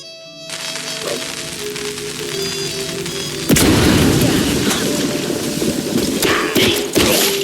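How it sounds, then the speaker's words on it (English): Firecrackers go off in a wooden attic in the video game MOUSE: P.I. For Hire, a sudden loud burst breaking through a quiet musical backdrop and followed by a dense crackling, rattling spray with a few sharp pops. "Pretty sure the fire department frowns on stuffing firecrackers into wooden attics."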